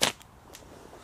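A slingshot shot at a thick glass bottle outdoors gives one sharp snapping crack at the start, followed by a couple of faint ticks and light rustle, moderately close.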